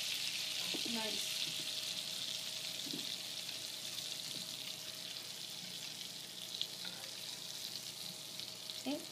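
Cranberry herb crab cakes fry in real butter over low heat in a pan, giving a steady, close crackling sizzle with a few soft taps and stirring touches throughout.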